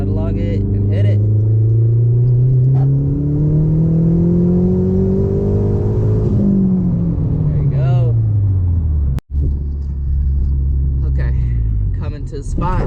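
A Mazdaspeed car with a FreekTune tune accelerates hard from about 3,000 RPM, its engine note climbing steadily, dipping at a shift, then rising again, loud and close from inside the cabin, with brief talk.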